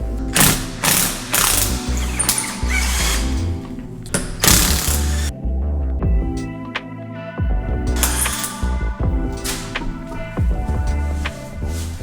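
Tools take the wheels off a 2012 Subaru Forester, with repeated sharp bursts of a power wrench spinning lug nuts, separated by metallic clicks and clunks of parts being handled up close and no one speaking.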